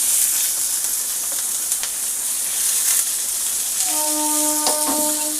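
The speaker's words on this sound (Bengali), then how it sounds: "এবার এই তেলের মধ্যেই আমি পেঁয়াজ দিয়ে দিলাম।" Onions hitting hot oil in a pan, a loud steady sizzling hiss that continues throughout, with faint clinks and a short tonal whine near the end.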